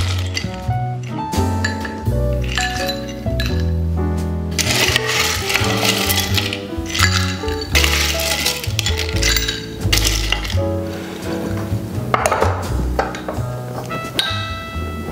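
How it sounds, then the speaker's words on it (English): Ice cubes clink and rattle as they drop into a metal cocktail shaker at a home bar while a French martini is mixed, a steady run of bright, ringing chinks and pings lasting the whole stretch with no talking. "we're gonna add ice to our shaker"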